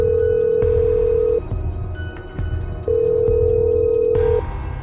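A telephone rings out while a man calls his boss after a bus accident: two long, loud, steady call tones separated by a short pause.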